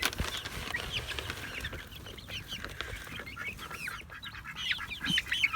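Young chicks chirping and peeping busily while being hand-fed worms, a close flurry of high calls with light rustling and a few taps.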